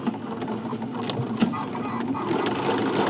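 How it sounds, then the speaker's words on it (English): A sewing machine running steadily while stitching a row along the edge of a summer dress sewn with stretch thread, a close, even whirring patter that continues without pause. "I'm going to do my first row of stitching, which is going to be close to this edge"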